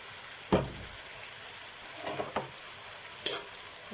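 An onion is stirred in a frying pan on a low, steady sizzle, with a sharp utensil scrape near the start and a few softer stirring clatters later, close and fairly quiet, with no talk.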